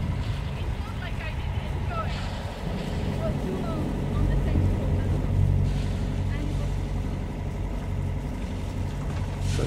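A sailboat's engine runs with a steady low drone as the boat departs from its berth, overlaid by wind noise and occasional faint voices.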